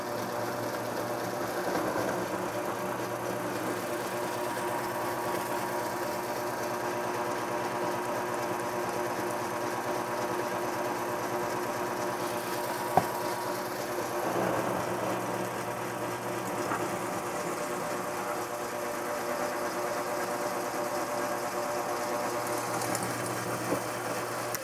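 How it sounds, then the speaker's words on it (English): A drill bores holes in a clamped metal flask for sand casting, giving a steady mechanical whir that holds at an even level throughout, with one sharp click near the middle and no talking. "I think I'm going to drill the whole thing out while I've got it clamped"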